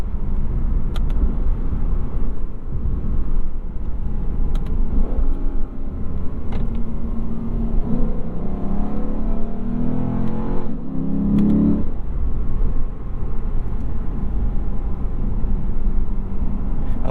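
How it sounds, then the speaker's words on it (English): A 2021 Lexus RC F with a naturally aspirated 5-liter engine drives along, its steady, loud low rumble filling the cabin, with a rising-pitch sweep partway through as the revs climb. "You cannot beat the sound of a naturally aspirated 5-liter"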